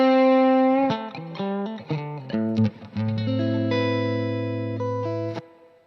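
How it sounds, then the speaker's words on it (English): A vintage Marshall amp, Mercury Edition, plays a short run of distorted electric guitar notes and sustained chords, ringing out with a reverb tail before fading to silence. "Here, listen to the reverb."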